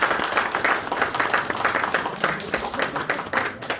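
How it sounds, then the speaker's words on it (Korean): Steady, full applause from a theatre award ceremony audience, continuous dense clapping close and loud throughout with no break. "박수 부탁드립니다"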